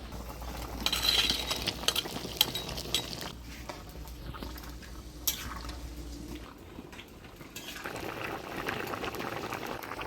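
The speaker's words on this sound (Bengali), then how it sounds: "ডালের বড়াগুলো দিয়ে দিলাম এবার দুই মিনিট ঢাকা দিয়ে জাল দিন" Fried split-pea lentil fritters simmering in a pot of boiling vegetable curry, a steady close bubbling with occasional clinks, drips and stirring, no talk.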